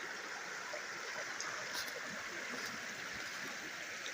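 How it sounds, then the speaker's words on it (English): Licking Creek flows along a hiking trail near a campsite, a faint, steady babble and rush of water with no clear breaks or talking. "And the beautiful stream. Licking Creek."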